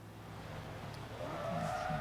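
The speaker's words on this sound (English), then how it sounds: "hit those brakes a little bit, lock them up." A car in the Forza Motorsport 3 racing game brakes hard, its locked tyres skidding with a rising squeal over a steady engine drone, fairly quiet in the mix.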